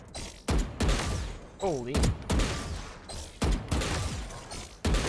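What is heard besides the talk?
gunshots in a video game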